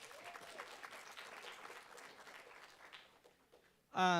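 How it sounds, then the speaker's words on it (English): An audience at a university student government meeting claps in a scattered round of applause that slowly thins out, then a voice breaks in at the end. "another round of applause for Patrick."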